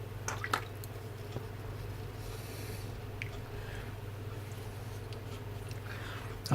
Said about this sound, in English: I'll wash the brush off there